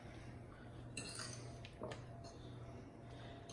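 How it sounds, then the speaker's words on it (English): Shredded mozzarella and cheddar cheese being mixed in a bowl, with a few soft clinks of a utensil against the bowl amid quiet rustling and a steady low background hum. "And I'm just going to mix this around."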